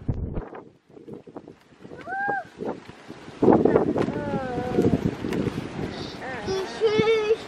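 Gusty wind rumbles against the microphone in low bursts, mixed with scattered animal-like chirps and cries, loud and close throughout.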